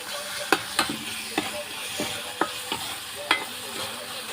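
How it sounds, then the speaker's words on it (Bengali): Chopped tomatoes fry in oil with a soft, steady sizzle as a spoon scrapes and clacks against the pan about ten times in an uneven rhythm, close and alone with no voices. "হালকা নাড়াচাড়া করে"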